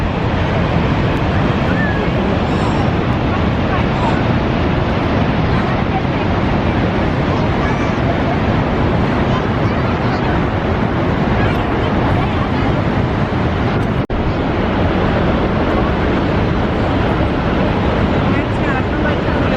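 Loud, continuous roar of powerful water at the foot of Niagara Falls, a dense unbroken rush with wind buffeting the microphone throughout.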